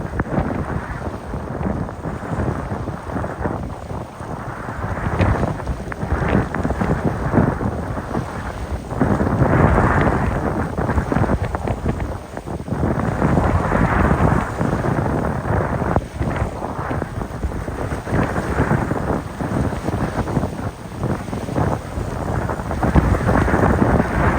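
Floodwater rushes across a road on an island off Jaffna, a loud, continuous roaring wash with gusty wind buffeting the microphone throughout, no voices.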